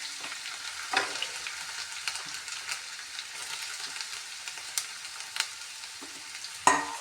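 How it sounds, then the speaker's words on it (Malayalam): Sliced ginger frying in hot coconut oil, a steady close sizzle with frequent scraping taps of a spatula stirring the pan, and no voices. "ഇഞ്ചി ഇട്ട് കൊടുക്കാം."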